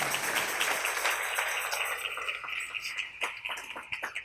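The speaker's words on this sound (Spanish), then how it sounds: "Dale un aplauso al Rey en esta maravillosa y hermosa tarde." A church congregation applauding during a Spanish-language sermon, sustained dense clapping from a crowd that thins into scattered individual claps toward the end, heard at moderate distance in a reverberant hall.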